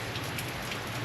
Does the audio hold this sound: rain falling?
yes